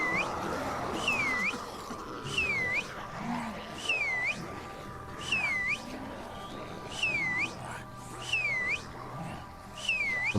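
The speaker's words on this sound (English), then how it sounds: "I'm gonna start hitting the H button to whistle." Repeated two-note whistle calls from a survivor character in the zombie survival game HumanitZ, sounding roughly every second and a half over a low ambient game background, clear and fairly close.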